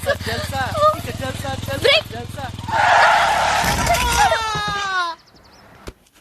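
A motorbike brakes hard and its tyres skid with a rising squeal over voices and engine noise in a film scene, then the skid fades out to near silence.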